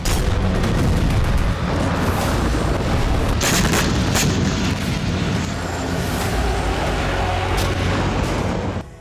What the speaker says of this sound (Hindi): सीरिया से सटे लेबनान बॉर्डर पर आईडीएफ ने भीषण बमबारी की।